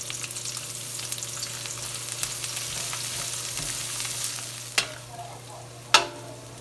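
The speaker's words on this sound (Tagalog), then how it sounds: "lalagyan natin ang sibuyas. Sunod na natin igigisa ang bawang." Onion and garlic sautéing in hot cooking oil for a coconut-milk squash and string bean dish, a steady close sizzle with a couple of sharp utensil clinks near the end, no voices.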